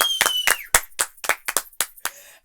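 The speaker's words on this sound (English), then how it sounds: "Red Queen, everybody clap, girl" A handful of people clap for the Red Queen, about ten sharp, close, separate claps in an uneven rhythm, with a brief voice near the start.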